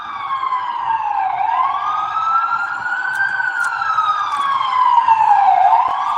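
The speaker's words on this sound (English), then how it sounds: "Y'all hear the sirens, right?" Emergency vehicle siren wailing outside, rising and falling in long sweeps; it stays loud and steady throughout with no talk over it.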